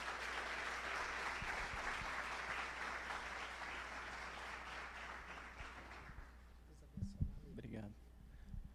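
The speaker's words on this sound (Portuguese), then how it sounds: "Vamos aplaudir o Senhor pela vida do Rafael?" A church congregation applauds during a ministry training service, a broad wash of clapping from a sizable crowd that fills the space for about six seconds and then dies away, followed by a brief voice and faint room noise.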